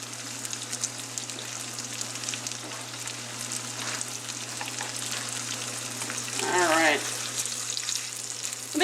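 Pierogi frying in a pan with onions, a steady close sizzle with spattering crackles throughout, plus a brief sliding scrape and a short voice near the end.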